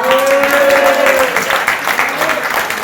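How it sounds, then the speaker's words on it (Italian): Applause from a gathering at an evening event of the Lega Navale sailing club in Aprilia Marittima, loud and close, with a brief tone and some voices mixed in under the clapping. "Facciamogli un applauso, dai!"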